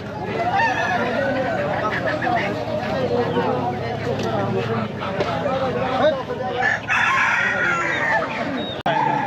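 Busy rural market din at Goyhata Bazar, Nagarpur, Tangail, with roosters crowing and chickens clucking among chattering voices and general crowd noise.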